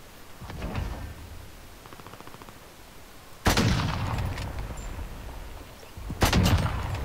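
Gunfire in the Warzone Rebirth Island video game, with loud sudden shot bursts, a heavy one midway and another near the end, over a continuous rumbling game background.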